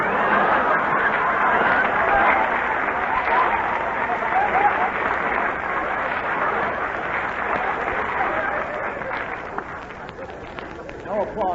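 A radio show studio audience applauds loudly and continuously for over ten seconds, a thick wash of clapping with some chatter and laughter mixed in, on an old, band-limited recording.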